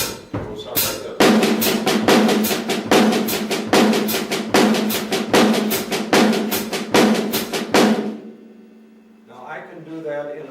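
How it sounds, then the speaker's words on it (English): A drum kit plays an accent exercise with bass drum and hi-hat in a steady rapid pulse, loud and close, before stopping abruptly and leaving a faint ringing tail. "In addition to just playing these accents, I want you to add your bass drum and your hi-hat."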